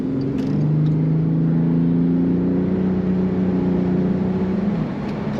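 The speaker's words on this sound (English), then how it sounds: "Plenty of power and strong acceleration from this car." A 2008 Bentley Continental GTC convertible, top down, accelerates under power, its engine a steady loud drone with a rising pitch heard from inside the car, alone without talk.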